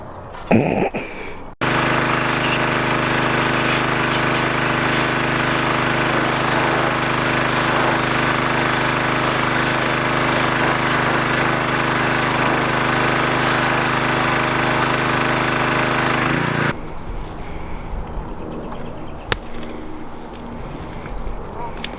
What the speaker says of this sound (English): Alright, Tina's done power washing her.